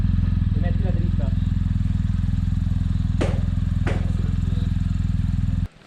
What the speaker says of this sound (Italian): Sali sulla moto un attimo e basta.